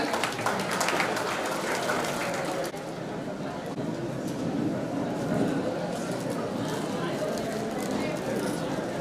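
Sustained crowd applause for guests at a college alumni meet, steady dense clapping that carries on throughout, with voices audible underneath.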